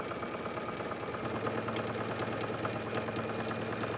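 A sewing machine stitching a 1-inch quilted channel in a jacket panel, running as a steady, even motor hum with a fast mechanical rattle throughout, moderately quiet and close, no speech.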